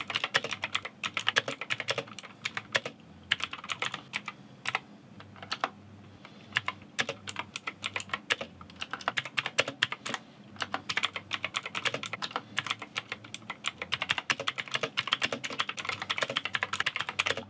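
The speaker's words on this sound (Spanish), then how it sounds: "Ahora voy a hacer una prueba de typing para ver qué tal ando con el teclado y todo eso." Fast, continuous typing on a cheap mechanical keyboard during a speed test, dense clicky keystrokes at close range with brief pauses, no talking.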